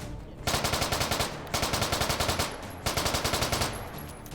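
A rapid-fire gun rattles in a video game, in three sustained bursts of quick, evenly spaced shots with brief pauses between, loud and close with no talk.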